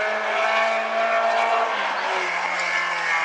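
A midget race car laps South Sound Speedway during qualifying, its engine a loud, sustained high-revving roar that holds steady and then dips slightly in pitch as it passes, with no talk over it.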